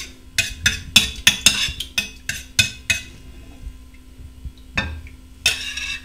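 Quick metallic clinks of a spoon against a container as chocolate is stirred into hot water to dilute it, coming in a rapid burst, then pausing before a few more taps.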